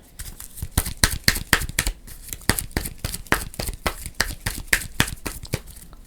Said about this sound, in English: We're going to shuffle these back into our deck.